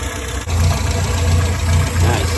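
A Morris Minor engine, souped up and fitted with an SU carburetor, idles steadily and close by during a carburetor tune-up, giving a constant low rumble.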